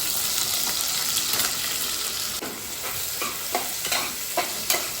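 Sliced onions sizzle steadily in a hot pan while a spatula scrapes and stirs them in irregular bursts, close up with no talking.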